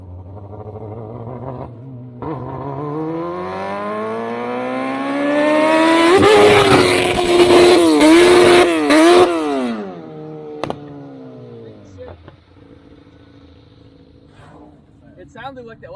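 A 200 HP hybrid cross-kart engine revs up steadily, climbs to a loud high-pitched peak and wavers there before dropping away to idle. Voices shout over the engine close by.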